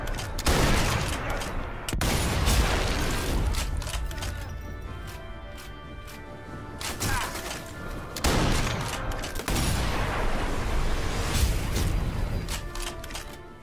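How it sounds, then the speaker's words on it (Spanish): Gunfire erupts in the video game Sniper Elite V2, with loud bursts of rapid shots and sharp cracks separated by brief lulls and echoing tails. "Ya esta gente habrá escuchado los disparos"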